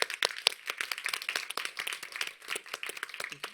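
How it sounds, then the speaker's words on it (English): A small audience gives a round of applause for a young climate activist at a discussion event: quick, fairly sparse hand claps in an uneven patter, moderately close, with no talking over them. "Can we give Scarlett a round of applause?"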